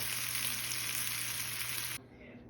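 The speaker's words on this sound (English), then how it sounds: "these are my onions. They're all sauteed in olive oil" Sliced onions sizzling in olive oil in a pan, a close, steady crackling hiss that cuts off sharply near the end, leaving a quieter low bubbling, with no talk.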